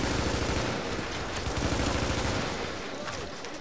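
Sustained automatic gunfire from The Division fills the clip, dense rapid bursts close and loud with little pause, under an excited voice.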